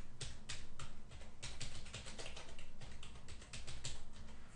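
Rapid, uneven keystrokes on a computer keyboard as a caption is typed into a movie-editing program, close and fairly steady with short pauses between bursts, no talking.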